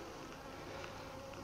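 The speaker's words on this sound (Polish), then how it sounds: "pszczoły ładują tutaj nektar, jak widać" Honeybees in a hive loaded with nectar give a dense, steady buzzing hum that stays close and even throughout, with no voices.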